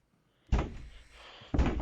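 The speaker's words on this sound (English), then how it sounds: "that knock though got me" A single heavy knock lands abruptly, loud and close, then its dull boom rings off for about a second before a second thudding knock strikes, in a found-footage horror setting.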